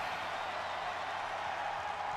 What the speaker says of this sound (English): I assume you can hear the crowd singing